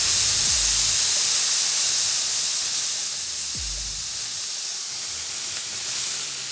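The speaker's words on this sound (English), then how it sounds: "A little steam to get that melted." Steady loud hissing as steam spreads over a hot Blackstone griddle to melt cheese on patty melts, with a couple of low thuds early on.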